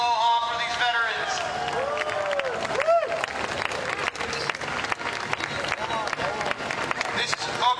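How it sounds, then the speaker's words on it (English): A crowd claps and cheers along a veterans parade route in Hawaii as Vietnam War veterans ride past in a Hummer and truck, continuous applause mixed with outdoor bustle and tonal whistles or horns throughout. "Let's give a big round of applause and aloha for these veterans"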